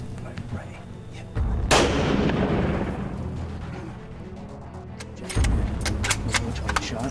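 A hunting rifle fires once at a broadside animal outdoors, a loud, sharp close-range blast at the start with a long rolling echo, then a second heavy boom near the end, with faint voices around it.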